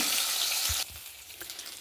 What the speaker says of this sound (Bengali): এখন আমি কড়াইয়ে তেল দিয়ে দিয়েছি। তো মাছটা এখন ভেজে নেব।